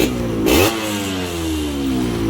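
A Yamaha motorcycle engine, tuned up from 18 to 20 bhp, revs sharply once, then settles back into a steady, loud idle close by.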